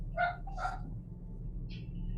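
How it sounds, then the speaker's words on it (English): A dog indoors gives two quick yips close together and then a fainter third yelp, heard over a steady low electrical hum in a quiet room. "Sorry if you guys can hear Yoshi."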